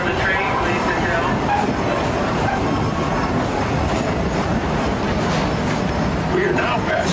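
The Disneyland Railroad's C.K. Holliday steam train rolling along its track, a loud continuous rumble with wheel clatter and faint squeals, recorded from on board with a voice announcement partly audible beneath.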